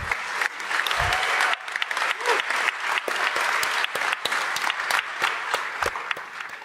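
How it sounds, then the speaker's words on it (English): A crowd claps in sustained applause at a DEF CON closing ceremony in a large hall, steady and dense throughout with a few scattered voices underneath. "give yourselves a round of applause"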